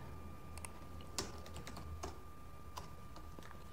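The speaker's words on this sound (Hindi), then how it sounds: "तो अलग अलग कई पैराग्राफ में कई जगह पर आपको अजय टाइप करना है।" Computer keyboard keys tapped while typing into a Microsoft Word document, a sparse run of separate clicks, quiet and close, with no speech.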